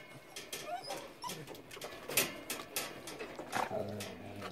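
Dog making whimpering and grumbling sounds at young puppies, in short irregular bursts close by, with other faint yips and bird-like chirps mixed in.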